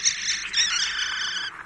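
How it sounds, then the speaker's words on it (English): A thrush sings a brief, bright, warbling phrase in a radio drama, clear and close, with chirping notes for about a second and a half and no talk over it. "there's that old thrush again"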